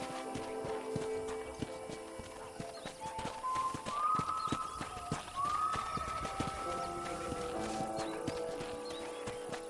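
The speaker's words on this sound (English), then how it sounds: "let's see if you can still ride a horse" Horse hooves gallop in a steady clip-clop rhythm on a ranch in Red Dead Redemption, near and moderately loud, with a musical score playing alongside.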